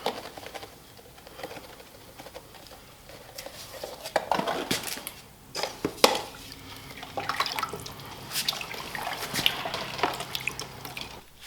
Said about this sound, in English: I'm going to mix it in this container of water to saturation